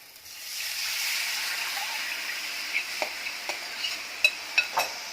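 Black pepper being stirred into a kadhi mixture in a pan for a fasting-day vrat kadhi, a steady soft sizzle with a few light scraping taps of the spoon near the end, close and alone.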